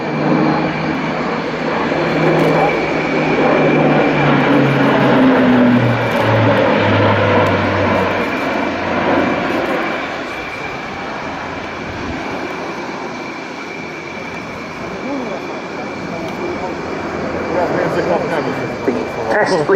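An Airbus A400M military transport aircraft flies a solo display at an air show, its turboprop engines roaring loud and continuous, the pitch sliding downward as it passes, then swelling again near the end.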